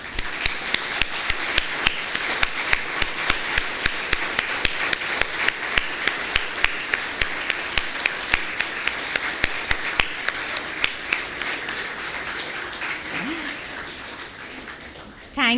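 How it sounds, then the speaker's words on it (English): An audience rises to applaud teachers at an event in Manipal, with sustained, brisk clapping from a crowd that holds steady for many seconds before thinning out near the end. "Can I ask you please to stand up and applaud these people who are in front of us"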